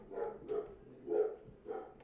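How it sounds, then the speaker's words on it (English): Dogs barking downstairs inside a house, four muffled, rhythmic barks at a distance, faint and dulled as if through floors and walls. "as the dogs rage downstairs"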